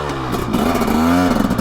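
A dirt bike engine, either a 2023 Yamaha YZ450F four-stroke or a 2023 KTM 300XC two-stroke with electronic power valve and fuel injection, revs loudly and close, its pitch rising and holding through a brief strong throttle blip.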